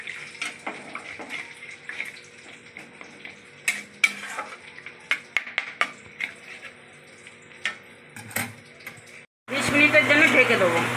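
Spoon scraping and tapping through fish curry masala in a pan, irregular clicks and stirs, then water pours in with a loud rushing splash and sizzle near the end.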